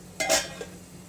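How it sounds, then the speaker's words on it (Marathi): Rice poured into a boiling pot, then the lid placed on, a quick rattling clink and a softer second tap, brief and close over a quiet low hum. "आता हे मी तांदूळ यामध्ये घालून घेते तर झाकण ठेवूया"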